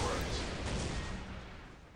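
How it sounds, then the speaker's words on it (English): Missiles launch and explode in the real-time strategy game Dawn of War Soulstorm during a Space Marines versus Chaos battle, a dense rushing roar of fire and blasts that fades slightly over two seconds. "More missiles coming out."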